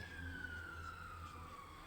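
An ambulance siren wails faintly in the distance somewhere in London, one long tone that slowly drops in pitch, with low background rumble.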